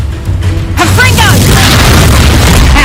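The Confringo fire spell explodes in the video game Hogwarts Legacy, a loud, close boom with a rushing, crackling burst that fills the rest of the moment after a short lead-in.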